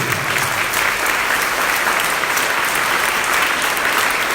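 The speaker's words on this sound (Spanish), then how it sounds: "Dale fuerte sus aplausos al Rey." A congregation at a Catholic inner-healing workshop claps loudly for the King, a continuous dense wash of hands with no pause.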